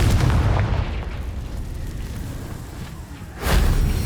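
A Confringo spell blast in Hogwarts Legacy booms twice, with a deep rumbling explosion at the start, a lingering low roar, then a second heavy burst near the end, loud and alone.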